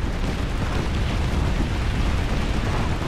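Grenade blast in PlanetSide 2, a loud, continuous roaring explosion with a heavy low rumble that fills the whole span at steady intensity, with no voices over it.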